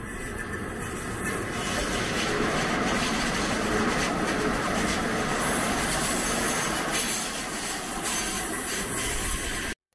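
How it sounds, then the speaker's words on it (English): An Edmonton Valley Line LRT light rail train rumbles past close by for the whole stretch, loud and steady, with grinding rail noise and metallic wheel squeal rising over the roar. "which makes it super loud when a train passes by"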